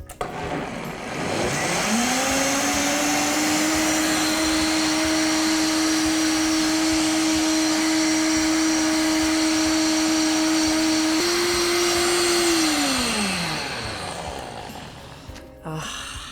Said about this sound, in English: So I'll pop that on and we'll just blend it into liquid velvet.